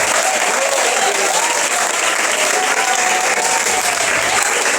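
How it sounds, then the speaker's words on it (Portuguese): Congregation applauding in a church, a dense, loud and steady wall of clapping that continues without a break throughout, with voices faintly mixed in. "Vamos aplaudir com mais fé,"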